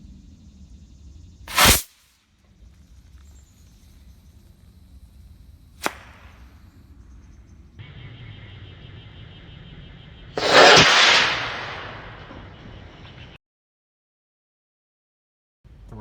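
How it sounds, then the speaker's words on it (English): A DIY rocket bursts out of a homemade launch tube with a sharp whip-like crack, followed by a hissing rush of exhaust that swells loud for a few seconds before cutting off to silence; a couple of earlier sharp pops stand out against a quiet background. "The rocket flies out of the tube just fine."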